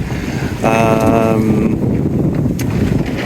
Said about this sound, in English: so therefore the jib is doing its flap thing